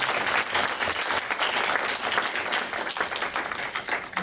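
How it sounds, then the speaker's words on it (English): An audience at an energy-management conference session claps for a panel, a steady, full round of applause from many hands that lasts about four seconds with no speech. "So I'd like to hear a round of applause for our illustrious panel."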